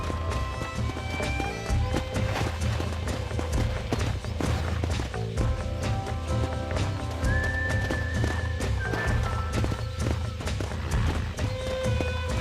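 Horse hooves clip-clop steadily with an occasional whinny, set within a dense, continuous bed of music and ambient game sound from Red Dead Redemption.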